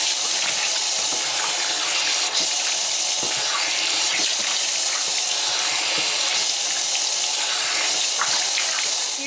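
Tap water runs steadily into a bathroom sink while face cleanser is rinsed off, a close, continuous hiss and splash broken by small hand splashes.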